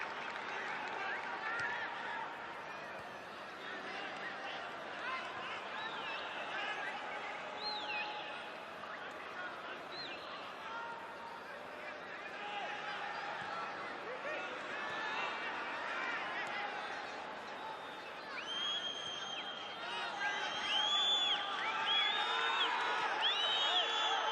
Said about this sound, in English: The sound of the crowd has dipped, hasn't it? A few whistles, one forlorn, lonely drum.